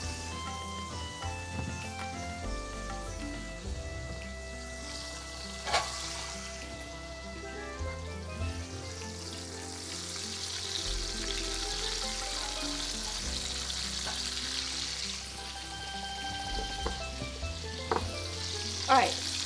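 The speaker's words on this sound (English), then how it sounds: "I'm going to fry up the onions until they become translucent" Onions fry in a pan for coq au vin, cooking until translucent, with a steady close sizzle, a few sharp stirring clatters, and a continuous musical-sounding background throughout.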